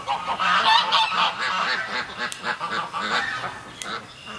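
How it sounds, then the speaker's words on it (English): Several geese honking repeatedly and overlapping, loud and close, with some harsher squawks mixed in. "the geese are not happy about those ducks being there"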